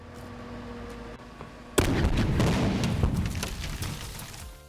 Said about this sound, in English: Mr. McMahon's limousine exploded on live TV.